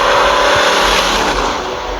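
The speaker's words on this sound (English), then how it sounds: "Dodge would end the arms race with their own super saloon disguised as a police car in 1968, the Dodge Polara Pursuit." A 1968 Dodge Polara Pursuit police car's engine gives a loud, steady, full-throated roar that stays close and continuous, easing off slightly toward the end, with no talking over it.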